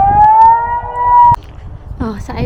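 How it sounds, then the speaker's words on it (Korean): A siren wails outdoors on a walk in Switzerland, a steady rising tone that cuts off abruptly, followed by faint street noise and a voice speaking. "사이렌 울리네요"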